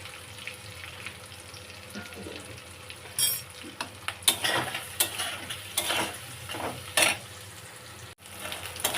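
Spiced potatoes with dried chilli, coriander, turmeric and salt being stirred and sautéed in a pan, giving a low steady sizzle with repeated scraping spatula strokes and a few sharper clatters, close and fairly quiet with no talking.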